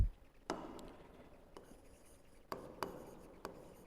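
A marker taps and scratches across a board in a quiet classroom, with a handful of sharp clicks and faint rubbing strokes spaced irregularly as the writing is wiped away and done again. No voices are heard.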